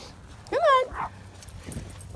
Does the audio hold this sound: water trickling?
no